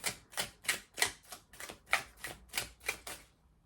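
Rapid riffle bursts of tarot cards repeat about nine times in a steady rhythm, close and crisp, with brief gaps between each shuffle.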